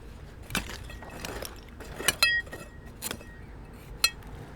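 Pressed glass drinking glass, chipped, giving several sharp bright clinks and ticks spaced irregularly over a quiet background, close and fairly crisp.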